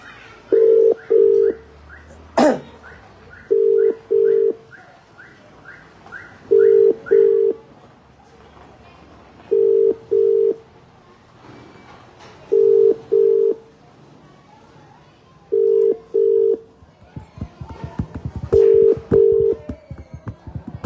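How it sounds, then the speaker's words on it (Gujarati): Telephone keypad tones tapping out a number, followed by a repeating two-beat ringback tone that cycles steadily about every three seconds, fairly loud and close, with a short burst of other noise near the end, in a Gujarati comedy skit. "લાગતું નથી ફોન કોઈ ઉઠાવે."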